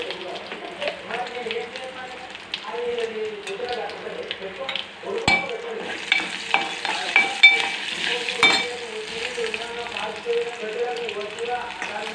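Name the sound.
spices frying in oil for rasam tempering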